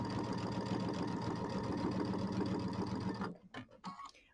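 A sewing machine hums in a rapid steady run of stitches while quilt binding is sewn down, close and continuous before stopping abruptly, leaving a few soft handling knocks.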